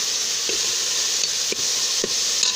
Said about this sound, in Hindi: 1 से 2 मिनट के लिए भून लेना है